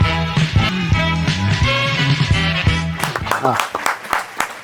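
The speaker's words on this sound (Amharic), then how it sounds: "አሁን የሰማችሁት ጭብጨባ የገዳም ሰፈር ጎረምሶች ያራዳ ልጆች ጭብጨባ ነው" Group of young men from the Gedam Sefer neighborhood clapping, a steady burst of close applause with a musical backdrop, then scattered sharper claps toward the end.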